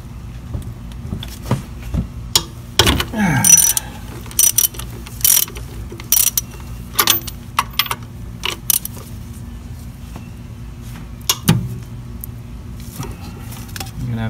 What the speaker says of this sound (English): these come off with a 17 millimeter deep well